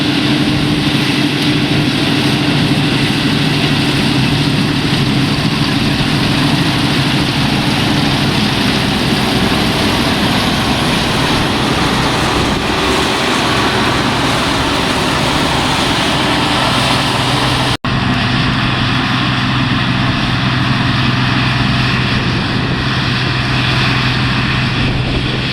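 An older combine harvester with about a 16-foot cut drones steadily at work nearby, a loud continuous engine roar with a brief break near the end.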